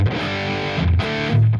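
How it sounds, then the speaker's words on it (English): Heavily distorted electric rhythm guitar in a dry, tight style with no reverb or delay, loud sustained power chords with a couple of chord changes, played alone without talk. "Now you hear when I have more distortion level now."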